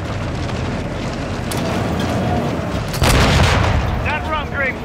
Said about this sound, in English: The C4, so use it on Green's tank